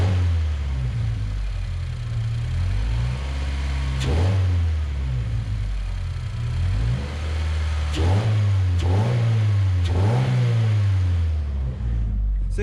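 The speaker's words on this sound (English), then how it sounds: "I've been kind of like blipping the throttle a little bit" A car engine, held near 2500 RPM to warm up, gets its throttle blipped a few times during a Mishimoto install. The steady mid-pitched drone swells in short revs and then settles back, with faint talk in the background.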